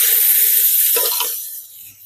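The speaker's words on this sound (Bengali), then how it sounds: "ডালটা কড়াইতে দিয়ে দেবো" Boiled kalai lentils pour into a hot wok that already holds fried hilsa fish heads, giving a loud, bright hiss and spatter that fades away over about two seconds.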